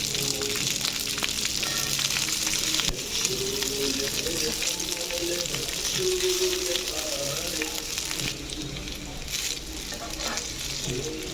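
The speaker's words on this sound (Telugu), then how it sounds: "ఇప్పుడు మనం చల్లారబెట్టుకున్న రైస్ కూడా వేసుకుని" Cooled cooked rice tossed into a hot frying pan for jeera rice and stirred, giving a steady close sizzle with scraping stir strokes throughout.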